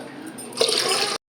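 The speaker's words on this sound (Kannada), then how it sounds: "ನೀರು ಹಾಕಿ ಅರಿಶಿನ ಹಾಕಿ ಇಡ್ತೀನಿ" Water splashes and runs steadily into a cooking pot for a turmeric-seasoned dal, a short close pour that swells in the middle and then stops abruptly.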